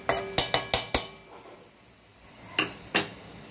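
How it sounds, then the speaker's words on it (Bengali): Yogurt being whisked in a bowl for paneer korma, the utensil striking the bowl in five quick close clinks, then a pause and two more taps, with no talking. "দইটাকে একটু ফেটাচ্ছি"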